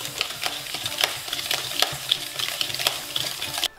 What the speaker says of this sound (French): je le mets dans les poudres et je vais mélanger afin que le mélange soit bien homogène